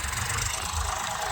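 Two tractors run slowly while levelling a field in a village, giving a steady, continuous low engine rumble with no voices.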